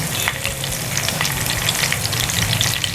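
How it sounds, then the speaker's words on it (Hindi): Cumin seeds, dry red chillies and curry leaves crackle and sizzle in hot oil, a dense steady frying hiss with sharp pops scattered throughout, close and loud, with no voices. "तो ऑयल को यहाँ पर हम करेंगे अच्छे से गर्म। यहाँ पर हम ऐड करेंगे थोड़ा सा जीरा, साथ ही यहाँ पर हम ऐड करेंगे सूखी मिर्चें"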